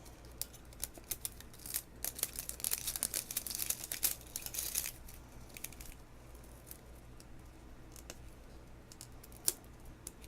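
Scissors snip and crinkle through layers of plastic toy packaging, a dense burst of close, crisp cutting and crumpling noises that then thin out to sparse clicks and rustles.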